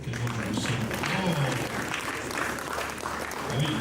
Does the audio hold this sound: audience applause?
yes